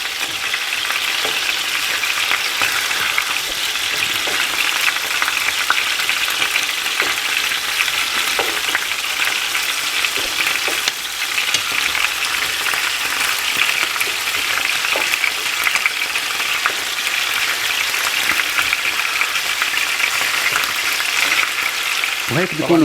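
Chicken pieces for Indian chicken biryani fry in a pan, giving a loud, bright, unbroken sizzle that holds steady for the whole stretch, close to the mic and with no voices over it.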